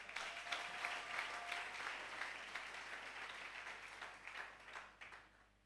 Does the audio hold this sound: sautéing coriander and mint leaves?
no